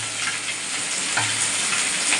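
Chopped onion, garlic, ginger, potato and beans fry together in a pan, giving a steady, close, loud sizzle with a few brief stirring scrapes and no talking.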